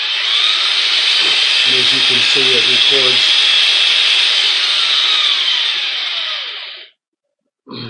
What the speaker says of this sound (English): We'll hit our Acquire Data button and start the drill.